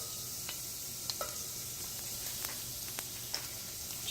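Garlic sizzles in hot shimmering olive oil in a pan, a steady close frying hiss broken by a few light stirring clicks, with no talk.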